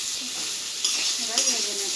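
Pumpkin pieces fry in hot mustard oil with turmeric and salt, making a continuous close sizzle, with a couple of brief scraping stirs partway through.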